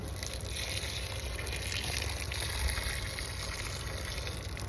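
Steady soft splashing and gushing of water onto tomato plants in a small garden, like a hose or can pouring onto soil, continuous and fairly distant throughout.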